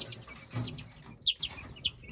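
Soft, high chirpy clucks from a month-old chick, probably a young rooster, a few short calls spaced unevenly over a low background hum.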